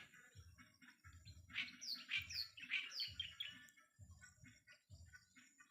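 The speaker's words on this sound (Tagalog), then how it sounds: "huni ng ibon" Birds chirp and trill in quick overlapping phrases, fairly faint, over a steady low rhythmic thumping in the background.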